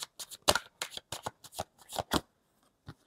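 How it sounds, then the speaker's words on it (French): Playing cards are shuffled and a card is set down on the five of spades during a tarot-style reading, heard as a quick series of close, crisp riffling snaps that end with a single soft tap. "On va mettre une carte sur ce 5 de pique."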